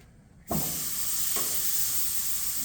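Spare ribs hit a grill heated to about 500 degrees, setting off a sudden loud searing hiss that holds steady and close, with a brief extra flare partway through.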